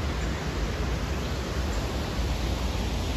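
Water rushes over a river dam on the Current River in Montauk State Park, a constant, even hiss-like roar that fills the background without change.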